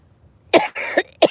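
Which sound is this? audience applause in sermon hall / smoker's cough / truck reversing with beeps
smoker's cough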